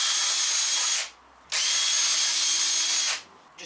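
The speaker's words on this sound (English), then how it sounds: "let's just put 2 holes through the wood like that" A power drill bores holes through wood for garage storage shelves, two loud, steady whining bursts at close range, split by a short pause.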